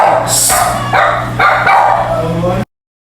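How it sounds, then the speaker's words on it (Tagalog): A small dog barks and yips repeatedly close by, several sharp bursts over a few seconds, before the sound cuts off abruptly. "Maingay yung aso."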